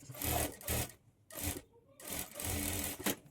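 A sewing machine stitches a hem on a plain blouse in several short, whirring runs separated by brief pauses, close and steady, with no talking.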